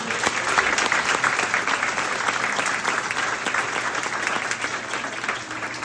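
A school board meeting audience gives a big round of applause to retirees, a loud, full, sustained burst of clapping from a crowd that holds steady throughout.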